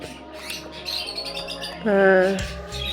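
A pet bird being handled for egg binding gives short chirps and squawks, with one louder, sustained harsh call near the middle against a steady background hum.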